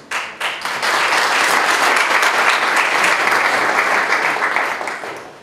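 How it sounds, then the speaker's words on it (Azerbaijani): A ceremony audience bursts into applause to honour award recipients at a Borçalı solidarity event, swelling quickly into loud, sustained, close-sounding clapping that carries on evenly before easing slightly at the end. "böyük əməli olan insanları sizin alqışlarınız altında həm təltif edək, həm də sürətli şəkildə onları alqışlayaq"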